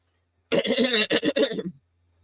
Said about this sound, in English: I'm sorry that I'm clearing my throat